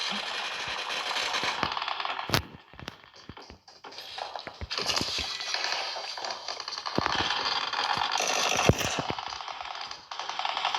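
Rapid bursts of automatic gunfire and single shots crackle through a PUBG Mobile firefight, loud and dense, with short pauses between volleys and no talking over them.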